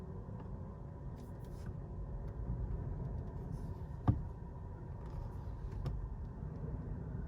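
Cabin of a Volkswagen e-Golf electric car driving quietly, with a low, soft road and tire rumble, a faint hum and one brief knock partway through, no voices.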